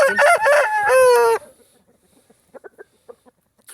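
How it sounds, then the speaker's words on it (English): A two-year-old cock bird imported from Belgium crows once, loud and close, a strained rising and falling call lasting over a second, followed by quieter scattered clucks and rustling. "2-year-old cock bird."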